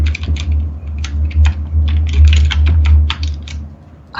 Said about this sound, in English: I was typing so softly.